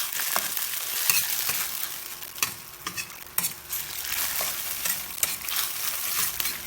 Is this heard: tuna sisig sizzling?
yes